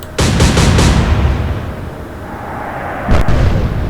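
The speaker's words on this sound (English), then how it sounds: "It was a very, very good salvo" Naval guns fire a salvo in the Atlantic Fleet game. Several booming shots thunder almost together at the start and trail off, then another heavy blast comes a few seconds later, loud and close.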